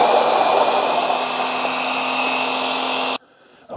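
OXO Brew conical burr coffee grinder set to coarse, grinding beans with a loud steady whirring drone that stops abruptly near the end, leaving near silence.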